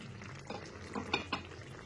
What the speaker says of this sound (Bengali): 3 থেকে 4 মিনিট পরে ঢাকনাটা খুলে দেখে নিচ্ছি।